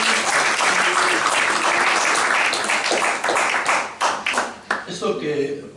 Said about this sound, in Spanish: Pues de nuevo pido un aplauso para Romualdo y para Clementa.